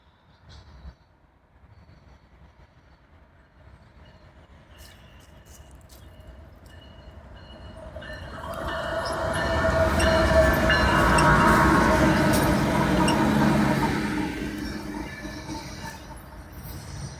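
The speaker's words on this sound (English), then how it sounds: "Okay, that's a mighty long train." A long CN freight train with two engines rumbles past on the main line in Vaughan, Ontario, building from a distant approach to a loud, steady roar of rolling wagons before slowly fading away.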